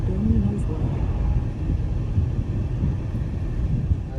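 Wind blowing at sea, a steady low rumbling buffet against the microphone with faint engine drone underneath, continuous and fairly loud throughout.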